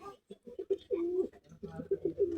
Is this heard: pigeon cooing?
yes